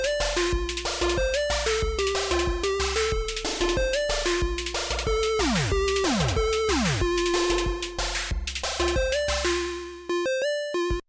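A chiptune arpeggio sequence plays on a Dirtywave M8 tracker, with rapid square-wave notes stepping through transposed patterns. Pitch sweeps and a pulsing bass run under it, steady and bright, until it ends abruptly.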